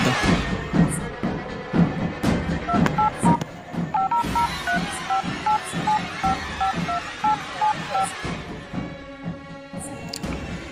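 Telephone keypad dialing a call, a quick run of DTMF tone beeps in an uneven rhythm with thumps of button presses, close and fairly loud, no speech.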